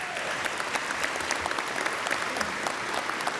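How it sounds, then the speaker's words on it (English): An audience at a U.S. Senate candidates forum applauds, a dense, even wash of clapping from many hands that holds steady throughout, fairly distant and moderately quiet. "Give yourselves a round of applause."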